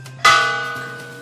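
A single bell struck once in Negros, ringing out with a sharp attack and a slowly decaying metallic hum, alone and fairly close.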